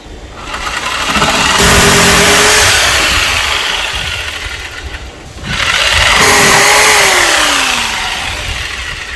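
A jigsaw cuts through a 2x4 in two loud bursts with a short pause between them, the blade's steady motor whine rising and falling as each pass goes through the wood.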